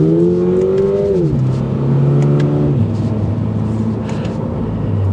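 A 2023 Toyota GR86 10th Anniversary sports car engine drones loudly and steadily, its pitch stepping down in stages as if shifting gears, a continuous exhaust note throughout.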